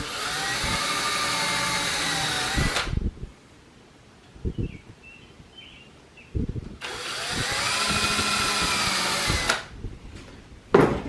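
A power drill drives screws into a wooden shelf inside a camper: two long, loud, steady whirring runs of about three seconds each, separated by a quiet stretch with a few short clunks and taps.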